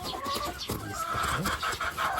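Small chicks cluck and peep steadily close by at a feeder in a home poultry yard, their calls overlapping in a continuous chatter.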